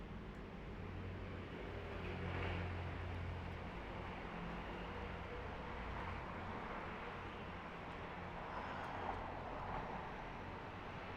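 Street traffic rolls past in a steady broadband wash with faint leaf rustle, picked up through a Shure MoveMic wireless microphone with noise reduction on; continuous and moderately distant, no talk.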